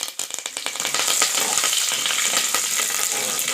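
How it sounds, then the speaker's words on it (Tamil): Curry leaves frying in hot oil with chana dal and urad dal, a loud, dense crackling sizzle that spits sharply at first, then settles into a steady, close-up frying roar. No one speaks. "கருவேப்பிலை நல்லா பொரிஞ்சிச்சு."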